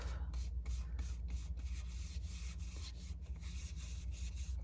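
Rapid, soft rhythmic rubbing of an ink applicator across a piece of card stock, a quiet scratchy back-and-forth scuffing repeated steadily and close, with no talk.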